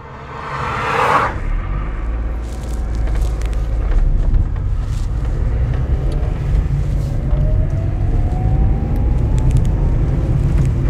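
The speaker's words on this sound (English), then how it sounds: "Just like the big truck we saw passing now with crates full of apples." A big truck loaded with crates of apples rumbles past on a farm road in the Langkloof, a steady loud low roar that swells and holds through the clip, opening with a brief whoosh.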